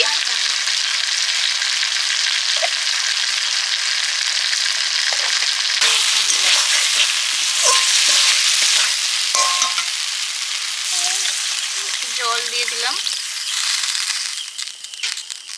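Mustard oil and ghee sizzle loudly and continuously in a pan for Bengali chana dal, a dense steady hiss with occasional scraping and stirring textures, no voices.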